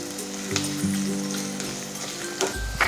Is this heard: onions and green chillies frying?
yes